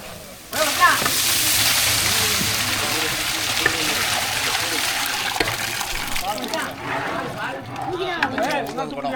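Coconut milk and water pour steadily into a large cooking pot for ghee rice, a continuous loud gushing splash that eases near the end, with talk over it.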